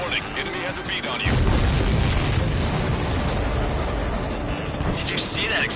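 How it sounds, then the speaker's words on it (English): In Ace Combat 7, a shot-down aircraft explodes with a loud, rumbling burst that lingers as a heavy roar, while radio voices talk over it. "Did you see that explosion?"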